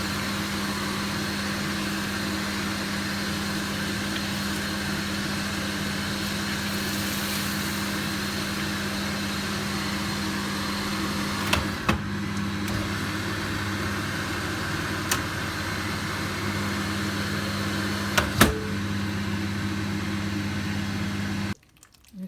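Kitchen extractor hood running above a stovetop while semolina halva simmers, a steady close droning hum with a few light clatters, cutting off abruptly near the end into near silence.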